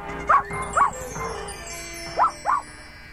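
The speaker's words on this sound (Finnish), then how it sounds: "Hän haukkuu minkä ikinä jaksaa." A dog barks loudly in short bursts, two quick barks followed by two more after a pause, close and sharp, alone over a faint background hum.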